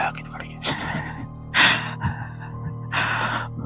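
A voice imitates slow, heavy breathing for a spooky story about being alone in an office at night. Three breathy, gasping exhalations arrive at uneven intervals, close to the microphone, with quieter voiced sounds between them.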